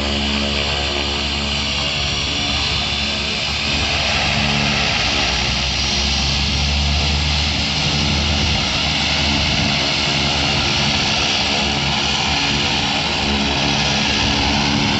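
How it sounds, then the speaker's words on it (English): An Air Tractor crop-dusting airplane flies past near an airfield, a loud continuous propeller and engine drone that holds steady and close for the whole stretch, with no talk. "A little bit of air tractor action for you."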